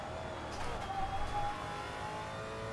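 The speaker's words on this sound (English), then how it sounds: "that was one hell of a drift there" Maserati MC GT4 race car engine in a racing game at Zandvoort, a steady loud drone with a brief rise in revs mid-drift, running continuously throughout.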